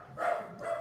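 A puppy gives two soft, close barks in quick succession, fairly faint and with no talk over them.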